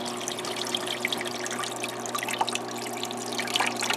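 Water trickles and splashes steadily from a small aquarium waterfall in a red clawed crab tank, with a constant hum from the tank equipment underneath.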